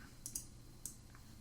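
Computer keyboard keys pressed while entering dimensions in Inkscape graphics software, a few crisp quiet clicks spaced apart in a near-silent room, with a double tap near the start and another at the end.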